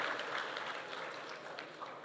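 Applause from the audience at a graduation ceremony of the Kenya Institute of Development Studies, a steady wash of many hands clapping, fairly distant, for the whole moment.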